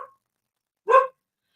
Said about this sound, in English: Storm, what are you barking at?